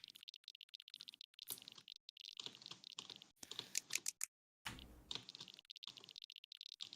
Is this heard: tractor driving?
no